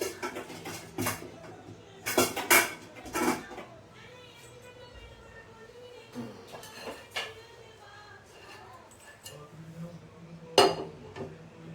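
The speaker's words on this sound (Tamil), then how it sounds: "இப்போ வானல் வச்சுக்கலாம்." A frying pan is set down on a stovetop with a few close metallic clanks and knocks of cookware, separated by quieter kitchen background.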